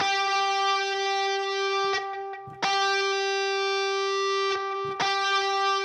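Sustained distorted electric guitar chords with a shimmering chorus effect, ringing out loud, with two brief pauses between strums.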